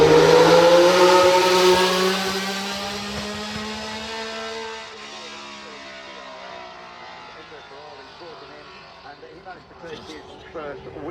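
Ferrari 312 Formula One race car at Goodwood, its engine screaming loudly at high revs and then fading as it pulls away, with a commentator talking over it.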